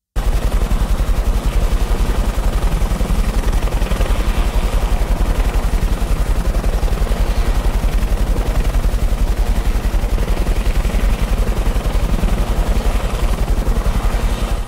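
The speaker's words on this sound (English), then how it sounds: "Let's see how the helicopter sounds and how the sound moves from one side to the other" A helicopter sound effect sweeps from one side to the other, its rotor thudding as a steady, dense, loud chop for the whole stretch with no voices.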